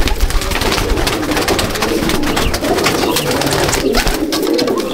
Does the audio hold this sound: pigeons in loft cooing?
yes